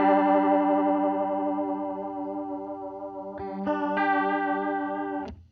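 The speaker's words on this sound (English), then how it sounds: "vibrato is more like chorus with less of the depth, but more of the rate ramped up, so it's going to wobble a little bit more" An electric guitar run through a vibrato pedal sustains a chord with a quick pitch wobble, then a couple of picked notes enter near the end, all loud and close with no talking.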